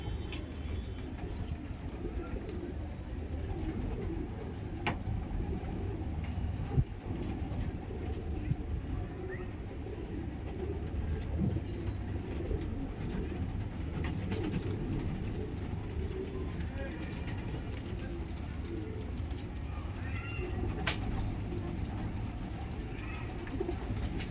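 Domestic pigeons cooing in a loft, soft low repeated coos running steadily under a constant broadband background hum, with a few faint knocks and rustles scattered through.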